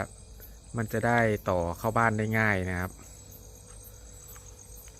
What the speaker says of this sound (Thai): เสียงจิ้งหรีดร้องนะครับ